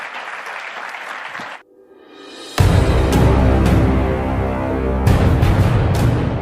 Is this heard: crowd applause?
yes